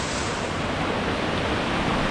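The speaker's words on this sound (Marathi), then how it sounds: "हे बघा इकडनं सर्व इकडनं पाणी येते आहे" Water rushes through a damaged stone dam at Velas village, where large stones have broken loose from the embankment. It makes a loud, steady, broadband roar that holds constant throughout, with no voices.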